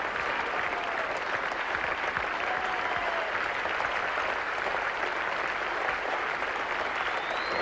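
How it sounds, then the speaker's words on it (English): Spectators at a 1977 India versus Australia cricket Test match applaud a batsman warmly, a steady dense wash of clapping from a large crowd that holds constant throughout with no talk over it. "the spectators applauding this little man very warmly for a most courageous innings"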